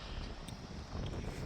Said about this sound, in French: On a un peu de vent, l'éolienne tourne à balle